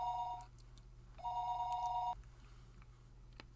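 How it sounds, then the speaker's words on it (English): In the Higurashi When They Cry visual novel, a telephone rings in two bright, trilling bursts separated by a short pause. The rings are fairly faint against a quiet background hum. "You have a phone call."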